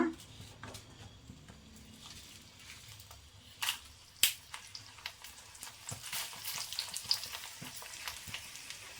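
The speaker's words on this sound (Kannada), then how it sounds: "ಇದೇ ಆಯಿಲ್ಗೆ ಇವಾಗ ಒಣಮೆಣಸಿನ್ಕಾಯಿ ಸ್ವಲ್ಪ ಫ್ರೈ ಮಾಡ್ಕೊಳ್ಳೋಣ." Dried red chillies fry in oil for an Andhra-style chicken chutney powder, a faint soft sizzle with scattered crackles and a few stirring clinks.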